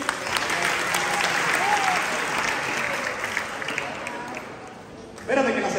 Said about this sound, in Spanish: Vamos a darle un aplauso a todos esos ahí